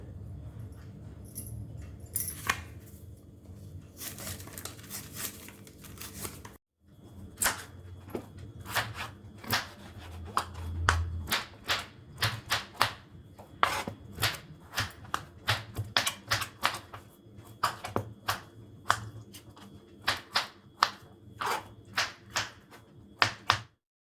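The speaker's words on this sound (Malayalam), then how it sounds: "ഞാൻ രണ്ട് പൊട്ടറ്റോയും മൂന്ന് സാവാളയും എടുത്തിട്ടുണ്ട് ഇതെല്ലാം നമുക്കൊന്ന് കട്ട് ചെയ്ത് കൊണ്ടുവരാം" A knife chops two potatoes and three onions on a board for a Kerala poori potato masala, sounding as a steady run of sharp, close taps with a low kitchen hum beneath and no talking.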